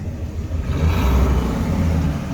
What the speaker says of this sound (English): So go ahead and give it a little gas.